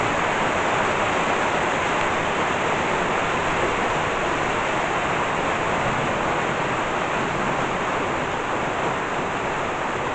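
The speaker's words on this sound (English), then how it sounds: "But she's still raining," Steady rain falls continuously during a thunderstorm in Burgos, a dense, even hiss that stays level throughout with no voices and no distinct thunderclaps.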